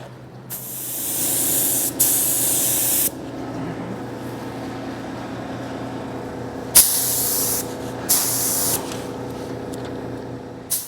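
Duplicolor candy coat aerosol paint sprayed in light coats, several hissing bursts of a few seconds each separated by short pauses, close and steady, with no talking.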